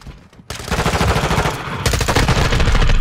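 Automatic gunfire in the Modern Warfare 2 beta, a loud, dense stream of rapid shots that kicks in after a brief lull and carries on without pause, growing fuller near the end.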